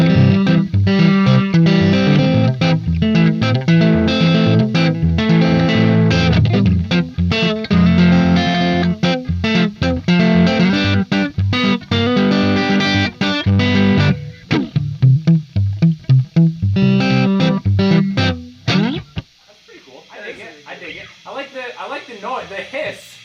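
A fuzzy, distorted electric guitar played through an amp simulator plays chords and riffs loudly for most of the stretch, then fades out as people start talking.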